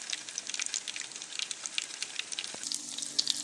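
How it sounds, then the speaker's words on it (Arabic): Bread frying in a pan gives off a steady, dense sizzle with a busy crackle that runs throughout, close and moderately loud, with a faint low hum coming in near the end. "راني نحمر الخبز تاعنا"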